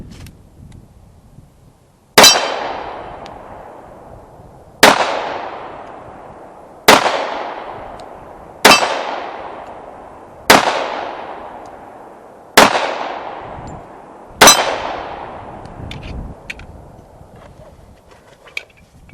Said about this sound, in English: when you got a swinging steel target, it's challenging